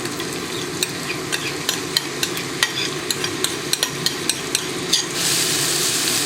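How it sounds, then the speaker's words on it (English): Garlic and white onion saute in a pan, a steady sizzle broken by regular sharp taps of a utensil against the pan, ending in a louder, brighter hiss as the frying intensifies. "Going to saute the garlic and onion just to get nice and translucent"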